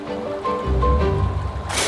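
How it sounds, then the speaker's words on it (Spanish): Water rushes steadily through a canal built along a hillside in San Pedro de Atacama, a continuous close wash that swells louder partway through, with no voices. "Ya se empieza a sentir el sonido del agua"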